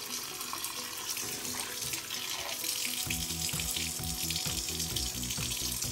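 Water runs steadily from a faucet set right above a cooking stove, with a continuous splashing rush and a rhythmic clatter starting partway through.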